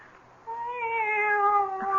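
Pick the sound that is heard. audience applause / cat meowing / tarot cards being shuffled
cat meowing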